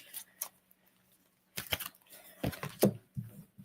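A tarot deck is shuffled right in front of a microphone, giving quiet, sparse papery riffles and snaps in short separated bursts against near silence.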